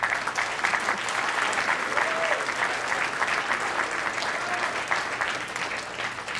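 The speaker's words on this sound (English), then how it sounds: "Will you say hello and clap hands for this committee?" An audience at a Martin Luther King Jr. birthday celebration applauds a committee, sustained dense clapping from a large crowd that holds steady for several seconds, with a faint voice or two mixed in.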